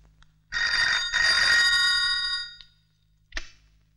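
A bright electronic phone ring sounds in two quick bursts, then fades, followed by a short sharp click; no voices.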